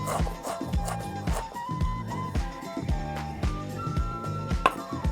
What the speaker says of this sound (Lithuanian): Aš atpjaunu ir pjaustau griežinėliais. Dabar plonomis juostelėmis.